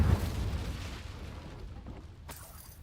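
An Incendio fire spell goes off in a Harry Potter video game, a heavy low boom that bursts at the start and fades into a rumbling, crackling tail, with a brief sharp snap near the end.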